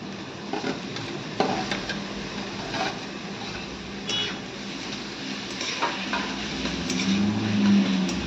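Cashew curry ingredients are stirred and sautéed in a pan, giving a soft continuous sizzle with scraping stirs and light clinks of the utensil against the pan.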